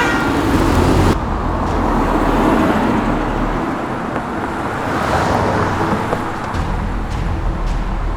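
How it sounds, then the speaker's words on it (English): Simulated engine and road noise of a Corvette Sport driving fast on a highway in the video game BeamNG, a steady, dense roar lasting throughout with a brief shift in tone early on. "He was driving fast since he left the car dealer."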